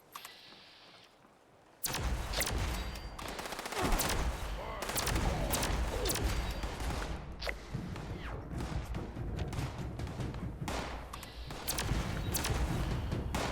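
Heavy gun fire in the video game Fallout 76, dense continuous bursts of loud gunfire with crashing impacts, nearly unbroken for over ten seconds after a quieter start.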